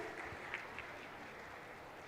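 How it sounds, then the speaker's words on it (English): Audience applause at a regional accountants' conference technical session, a steady wash of clapping heard from a distance, faint and even, with no talk over it. "A huge round of applause for this achievement itself."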